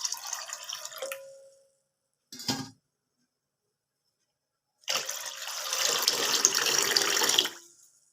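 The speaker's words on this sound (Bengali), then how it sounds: "কড়াতে দেব জল। জলটা একটু বেশি পরিমাণেই দিতে হবে।" Water poured from a tap into a wok on a gas stove, in two splashy bursts: one running about two seconds, then a brief splash, then a longer steady pour of nearly three seconds.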